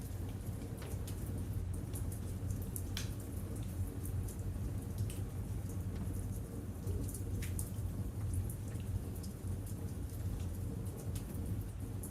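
Steady rain falls outside on a city street, with a constant hiss of drops spattering on surfaces. Low rumbling sits under the rain throughout.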